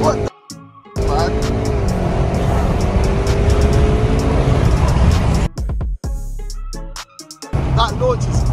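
A tuned VW Golf R MK7.5 launches hard and accelerates, its engine roaring loud and close with rising pitch through the gears, interrupted by brief cuts, while people talk excitedly inside the car.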